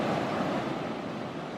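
Ocean surf at a beach in Da Nang, Vietnam, a loud continuous roar of breaking waves with wind buffeting the microphone, no voices.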